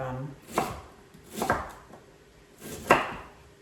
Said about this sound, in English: Just going to cut it up so that I can put it all on.